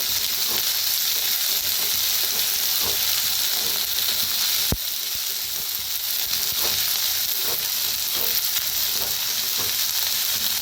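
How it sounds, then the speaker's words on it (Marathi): Chopped onion and onion greens fry in a pan with a steady, loud sizzle that lasts throughout, broken by faint stirring scrapes and one sharp clack near the middle. "कांद्याच्या पातीला बी चांगलं भाजून घेऊया।"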